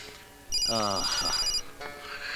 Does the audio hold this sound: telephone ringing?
yes